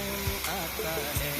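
Milk poured into carrots frying in ghee, a steady hiss and sizzle with a couple of soft utensil knocks, close by and without talk.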